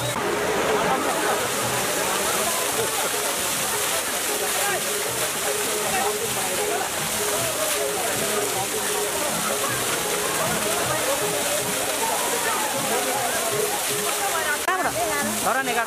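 Water gushes and splashes heavily from a public supply point in a town square at Swastik Chowk in Dharan, a loud continuous roar and spatter with a crowd talking and calling out over it throughout.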